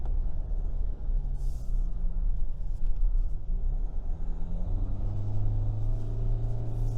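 A Changan Hunter pickup truck's engine labours up a hill climb, a steady close low rumble that swells in pitch as the gears are held longer, with no talk over it.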